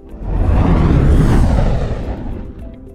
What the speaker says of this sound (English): Here is a clip of a fireball with the gas flame sounds from the first video.